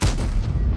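A tank shell bounces off armor in a tank video game, a single heavy, booming impact right at the start that rumbles and fades through the short moment.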